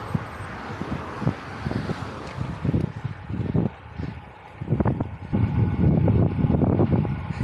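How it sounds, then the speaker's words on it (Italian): Gusty wind roars and thumps against the microphone on an exposed height at Prosecco Contovello, rising and falling in loud bursts with no one speaking. "Qua si comincia a sentire il vento, siamo alti e esposti"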